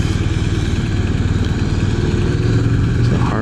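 A Harley-Davidson motorcycle engine runs steadily and loudly up close, a deep throbbing idle with clattering mechanical texture and a slight rise in revs near the end.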